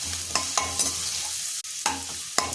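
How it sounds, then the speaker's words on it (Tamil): Steady sizzling of onions sautéing in a hot pan, with a few sharp scraping stirs as they are moved around, no voices. "ஆனியன் போட்டுங்க, அப்படியே வதக்கலாம்."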